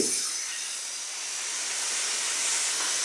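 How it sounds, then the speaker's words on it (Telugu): Oil heating in a pan on the stove gives off a steady, close hiss that holds at an even level from start to end, with no talk over it. "సో ఇప్పుడు నేను కొంచెం నూనె వేసాను కదండి అది కొంచెం మరగనివ్వండి"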